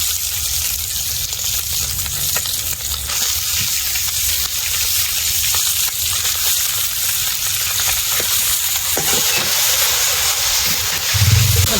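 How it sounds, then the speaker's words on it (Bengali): Leafy greens and green chillies hit hot oil in a pan and sizzle loudly and continuously, a bright crackling hiss with occasional stirring clinks. "আর কাঁচা লঙ্কাটা দিয়ে দিই আগে তেলের পরে। এখন শাকটা দিয়ে দেবো"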